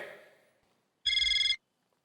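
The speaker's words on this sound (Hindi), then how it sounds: "आपका ही फोन बज रहा है।" A short electronic ring tone bursts out for about half a second, bright and warbling, after a fading voice trails off into quiet.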